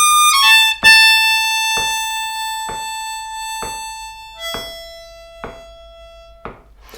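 A blues harmonica lick, played alone and close with a series of sharp, evenly spaced bright notes.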